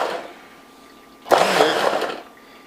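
A kitchen blender pulses to chop food, quiet at first, then a loud motor burst for about a second that stops abruptly, nearby with no talking.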